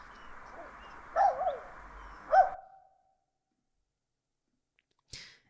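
Bird sounds in a game ambience, with two soft cooing calls over a low background bed that fades to silence, followed by one brief faint chirp.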